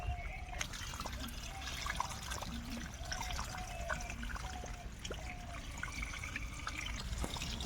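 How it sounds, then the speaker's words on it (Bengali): Water from a pump-driven machine irrigating a vegetable garden, a steady trickling and splashing flow with scattered drips, moderately close, continuous throughout with faint background sounds. "এদিকে তো মেশিন চালানো আছে বাগানে সেচ চলছে জল হতি লাগুক"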